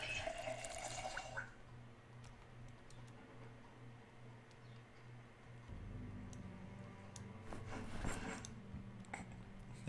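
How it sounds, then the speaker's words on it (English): Water pouring into a watering can in Project Zomboid, a steady running-tap wash with faint ticking, the splash swelling midway through and continuing to the end with no talking. "Watering can. I'll fill that up with water."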